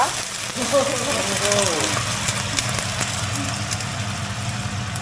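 Dumplings fry in a pan as water is poured in, giving a loud, steady hiss and sizzle that holds throughout with a brief bubbling burst near the start.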